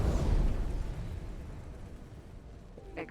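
An aircraft blows up in a flight combat video game, a deep booming blast that rolls off into a long fading rumble, with a small pop near the end.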